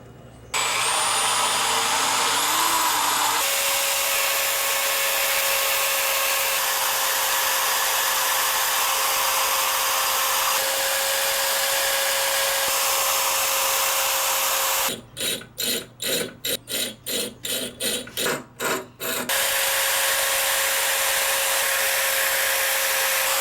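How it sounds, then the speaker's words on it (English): A power drill reaming out a hole in a Ford truck clutch pedal whines steadily for a long stretch, then pulses in quick on-off bursts before running continuously again, close and loud. "I'm going to take this drill bit here and I'm just going to ream it out"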